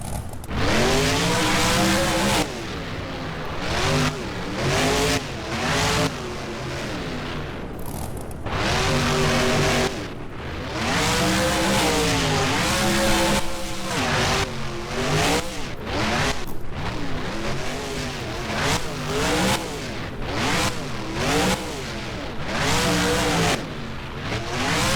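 The Bad Habit monster truck in the BeamNG video game roars and revs hard as it launches over a ramp, its engine loud and close, surging and dipping in long waves with bursts of tire squeal.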